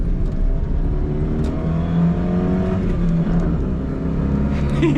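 A 1996 Fiat Cinquecento 700 with a 30 hp engine pulling away from a standstill, heard from inside as a loud, strained engine drone that climbs in pitch through the gears, with no talking.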